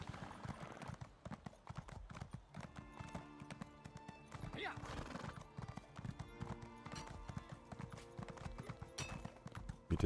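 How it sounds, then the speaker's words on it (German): Horse hooves clattering down stairs in The Elder Scrolls Online sound as a brisk, continuous clip-clop with a brief whinny, close and clear, while someone talks over it. "Wie dezent er die Treppen runterreiten kann."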